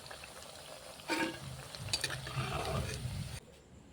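Emoji-shaped pitha fry in hot oil in a pan, a steady soft sizzle with a few brief louder crackles and stirring clinks, alone without voices, fading quieter near the end.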